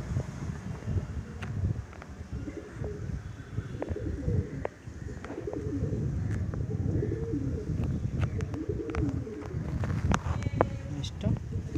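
A male Madrasi pigeon with green eyes coos in low throaty bursts nearby, alongside other pigeons, with wind noise and people talking throughout.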